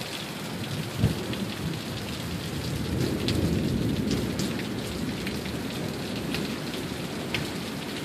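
Heavy summer downpour in Sioux Falls with nickel-sized hail, rain hissing steadily and loudly on surfaces while a low thunder roll swells and rumbles underneath through the middle, with no talking.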